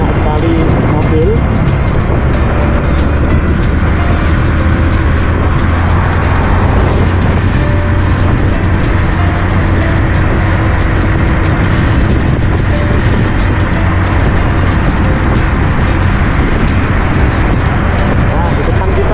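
Busy road traffic on the route from Malang toward Batu, with a continuous rumble of many passing cars and engines heard up close for an extended stretch, steady and loud throughout.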